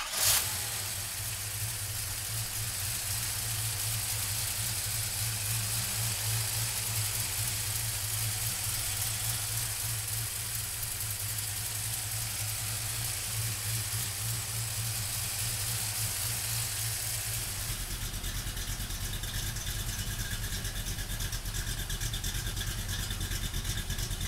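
A 1958 Chevrolet Apache pickup truck engine turns over and settles into a steady, rumbling idle, with a rougher, deeper tone after a shift partway through; no talking.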